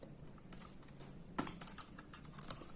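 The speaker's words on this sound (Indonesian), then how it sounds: "Oke, kita akan buka dulu keyboardnya" A Lenovo ThinkPad T420 laptop with an overheating fault has its keyboard pried off. Light plastic clicks and taps sound close up, with a sharper snap near the middle and a few more small clicks after it.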